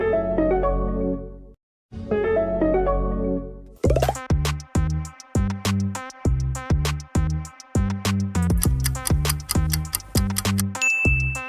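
Hyundai car logo animation sound: two short ringing chords separated by a brief silence give way to a steady run of crisp plucked, ticking musical notes in a regular beat, clear and unaccompanied by speech.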